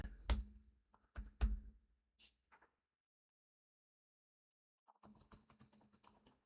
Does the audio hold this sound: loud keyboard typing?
yes